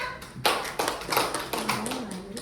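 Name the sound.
children clapping for a classmate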